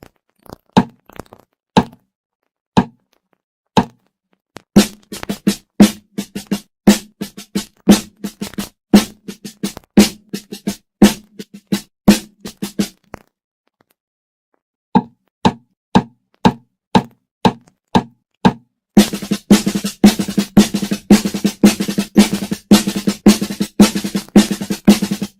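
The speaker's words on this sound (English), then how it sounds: "With a single drag tap, as the name implies, a single drag is followed by a single tap." Snare drum playing the single drag tap rudiment, a ruffled drag grace note followed by a single tap, struck in a steady repeating pattern, solo and close with crisp sharp hits.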